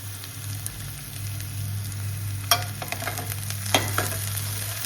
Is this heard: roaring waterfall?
no